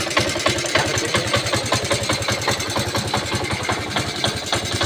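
A Honda C90 motorcycle with a converted CDI ignition running at idle, a close, loud, steady rapid thumping putter with even rhythm and no speech.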